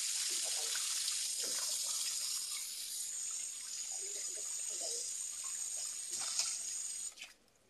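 Running tap water pours steadily into a sink as food is rinsed before cooking, a continuous bright splashing rush with small clinks, ending as the flow cuts off near the close.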